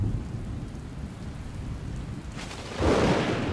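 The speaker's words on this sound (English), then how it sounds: "With the first drops of rain," Steady rain falls across the open Liuwa Plain, then a loud rumble of thunder rolls in near the end, broad and swelling over the continuous hiss of the downpour.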